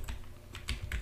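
A few quick keystrokes on a computer keyboard enter a folder name, four short taps at close range over about a second, quiet and with nobody speaking.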